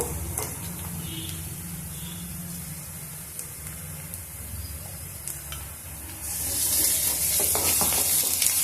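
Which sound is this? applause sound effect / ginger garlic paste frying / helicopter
ginger garlic paste frying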